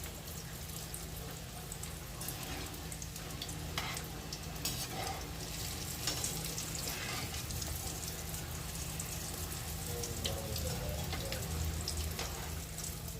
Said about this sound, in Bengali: তাই আমি সর্ষের তেলেই ভাজছি